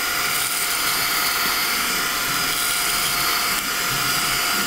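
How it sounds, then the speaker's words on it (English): A Brigii M1 handheld vacuum sucking up spilled rice grains, a steady high-pitched whining motor hum held throughout, close and loud with no talk. "Every last grain of rice scooped up just like that."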